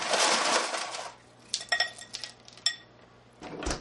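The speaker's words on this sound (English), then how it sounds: "put ice cubes all over the top." Ice cubes clink and clatter as they are piled over peeled potatoes in a bowl, a dense rattling burst first, then a few scattered sharp clinks and one last clatter, close and clear with no talking.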